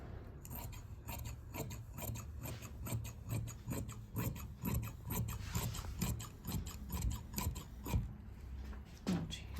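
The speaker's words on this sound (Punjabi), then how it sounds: "ਇਹਨੂੰ ਆਪਾਂ ਇੱਥੋਂ ਸਿੱਧਾ ਕਟਿੰਗ ਕਰ ਦਾਂਗੇ" Scissors cutting straight through cloth for a salwar, a steady run of close, rasping snips and slides repeating throughout with no talk.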